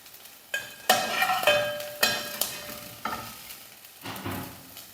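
Dry prawns frying in a pan make a moderate sizzle, with sharp spatula scrapes and taps every second or so, close and clear with no talking.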